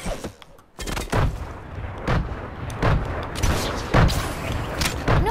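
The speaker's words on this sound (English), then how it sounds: "Guy who's shooting me in the back." Video-game gunfire in a 1v1 build fight rings out as repeated loud bursts and booming shots at an irregular pace, with a constant busy game backdrop between them.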